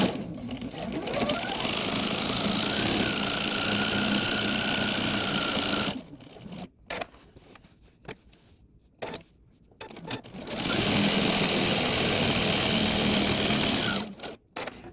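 A sewing machine stitches quilting lines on scrappy quilt fabric, running in a steady close whir that stops for a few seconds of quiet handling, then starts again and runs steadily.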